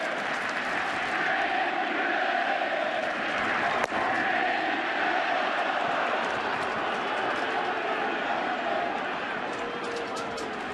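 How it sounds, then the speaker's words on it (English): A packed crowd at a World Series Game 6 between the Yankees and the opposing team in 2009, a dense, sustained roar of voices chanting and cheering toward pitcher Andy Pettitte, steady throughout, with a commentator talking over it. "Getting serenaded by this crowd."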